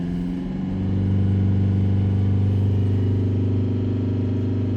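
Mitsubishi L200 diesel engine held at a steady 3000 RPM after a brief rise, a loud continuous drone with strong low harmonics and no talk.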